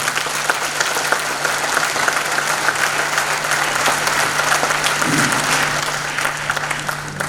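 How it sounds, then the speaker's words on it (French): Steady, full applause from an audience honouring parents at a school prize-giving ceremony, sustained and dense for the whole stretch, fairly loud with no pause or talking over it. "Je souhaite qu'on applaudisse très fort les parents"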